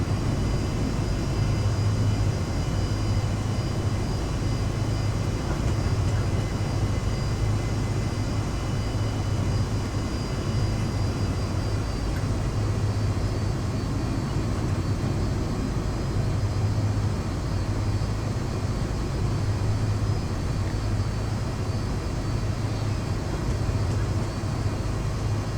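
Boeing 747-200 engines in X-Plane 11 produce a continuous, even rumble and whine on the runway, a steady loud drone with a faint pulsing hum and no other sounds.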